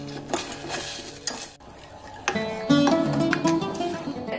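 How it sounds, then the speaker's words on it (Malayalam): Chopped chocolate being stirred into hot whipping cream for a ganache, giving a steady scraping and clinking of a utensil against a bowl with a few sharper knocks, close and fairly loud, with no voices. "ഇനി മെൽറ്റ് ആവുന്നത് വരെ മിക്സ് ചെയ്താൽ മതി."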